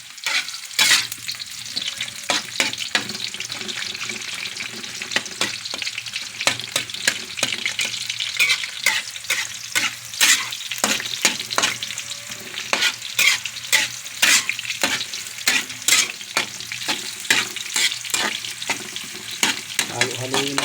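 Onion and garlic stir-fried for chop suey in a pan at a rooftop garden, giving a steady, loud sizzle broken by frequent sharp scraping clicks of the spatula as it is stirred, with no talk.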